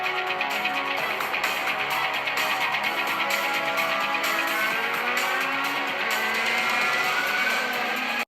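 A car driving through Rockport City in a racing video game, with a steady, loud engine whine that rises and falls in pitch as it holds speed, and no pauses.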